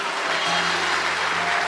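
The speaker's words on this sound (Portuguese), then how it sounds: "Dê um forte aplauso ao Senhor." Church congregation applauding during a Pentecostal sermon, a dense continuous clapping wash with a low sustained tone underneath, heard from a distance.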